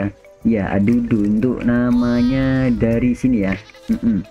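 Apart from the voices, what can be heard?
goat bleating in the video game Raft Survival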